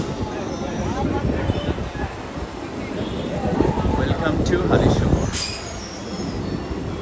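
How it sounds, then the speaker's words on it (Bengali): A Kolkata local train slows into Halishahar junction, with steady rumble and clatter of the carriage and wheels building toward a squeal near the end, heard from on board while someone talks over it. "ট্রেন আস্তে আস্তে স্পিড কম দিচ্ছে"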